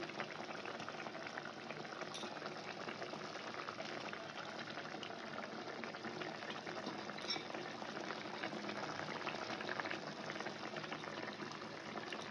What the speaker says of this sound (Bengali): একটু ফুটছে, আস্তে আস্তে ফুটবে।